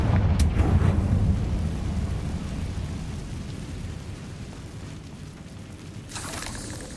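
A Confringo fire spell from Hogwarts Legacy erupts in a loud, low rumbling blast near the start, its roar fading slowly into a long crackling tail, with a brief flare returning near the end.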